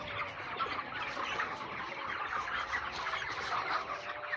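Chickens clucking and squawking together at a busy poultry market, a dense, continuous chorus of many birds, fairly close and steady throughout, with no talking.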